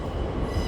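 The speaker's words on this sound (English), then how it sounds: "We now have Northern departing from 11" A Northern diesel multiple unit, pairing Class 150 units 150-273 and 150-272, pulls out from platform 11 at Leeds station, a steady low rumble of engine and rolling stock that stays constant and fairly close throughout, with no voices.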